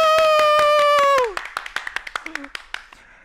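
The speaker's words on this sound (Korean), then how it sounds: "박수!" Children's church audience clapping as a designer is welcomed, a string of separate sharp handclaps following a sustained tonal sound that cuts off, the claps fairly loud and near.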